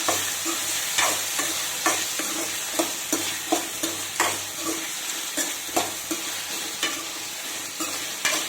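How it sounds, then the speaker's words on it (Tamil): Chopped tomatoes being stirred into frying onion, ginger, garlic and masala for a hotel-style mushroom gravy, with steady sizzling under a regular rhythm of spoon scrapes and stirs in the pan, close and alone. "இந்த ஸ்டேஜில் மீடியம் சைஸ் 2 தக்காளி கட் பண்ணிக்கிறேன், அதை சேர்த்துக்கிறேன். சேர்த்துட்டு நல்லா ஒரு முறை கலந்து கொடுத்துருங்க."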